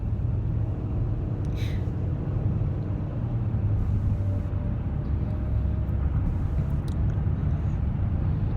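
Steady low rumble of a car interior while driving, a constant road and engine drone with no talk over it.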